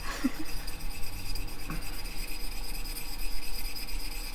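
A carbide woodturning cutter is rubbed in small circles on a diamond sharpening stone wetted with a bit of spit, making a continuous close, gritty rasp.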